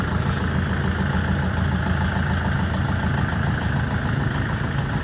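A Kubota L4508 tractor with its original engine idles nearby, a steady, dense mechanical rumble with constant vibration and no change in pace, heard alone without talk.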